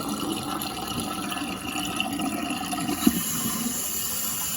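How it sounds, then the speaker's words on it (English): Water draining and refilling in a toilet tank during a repair of a running toilet, a continuous close hiss and gurgle of flowing water with a small splash partway through. "Now we'll drain a little bit of water out of the tank until it turns on."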